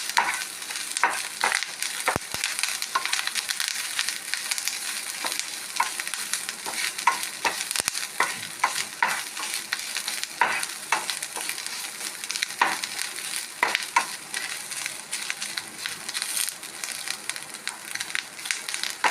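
Coconut, curry leaves and Malabar tamarind fry in a pan for garlic chutney, a continuous close crackling sizzle with constant rapid spatula scraping and stirring throughout.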